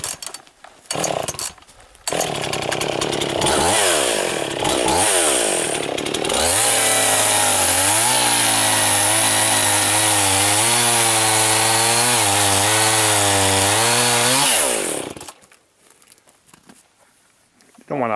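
Chainsaw cutting while felling trees, revving up and holding a loud, steady cutting drone with shifting pitch for about nine seconds before dropping off, close by, with people talking around it.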